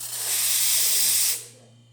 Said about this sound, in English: And we've got steam.